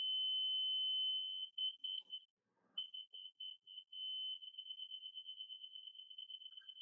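A laser level detector used while installing an Ikea kitchen gives a steady, clear high-pitched electronic tone that briefly drops out. It ends in a run of quick, even beeping pulses.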